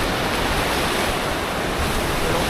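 Rough sea waves on a windy West Philippine Sea beach in bad weather make a continuous loud broadband wash and roar, with wind noise buffeting the microphone throughout.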